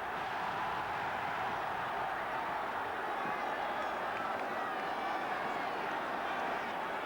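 A football crowd at an early 1970s Millwall match keeps up a steady, distant roar of cheering without letup, while a commentator speaks over the din.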